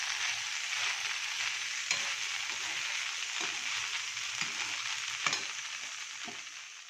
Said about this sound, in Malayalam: എണ്ണയിലിട്ട് വഴറ്റാൻ പോകും.